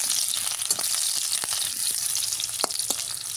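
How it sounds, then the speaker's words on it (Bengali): Potatoes fry in hot oil for a meat curry, giving a constant close sizzle with scattered faint pops and light spatula clicks, moderately loud and without any talking. "আলুগুলো সব তেলে ভেজে নিচ্ছি লাল লাল করে।"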